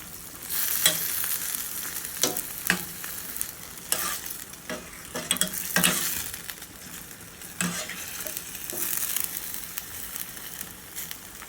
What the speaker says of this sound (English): I'm sorry about the noise and I'm cooking with a spoon.